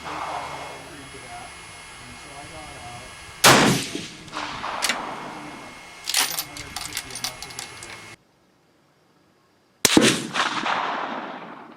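Rifle shots at a shooting range with 7.5x55 Swiss cartridges, two or three sharp loud cracks separated by pauses, with talk between them and a brief dead gap before the last one.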